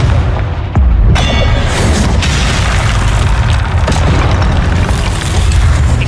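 Fiery Confringo spell blasts in Hogwarts Legacy on PS4 Pro, a loud booming explosion landing about a second in, followed by a sustained rumbling roar of fire and combat noise throughout.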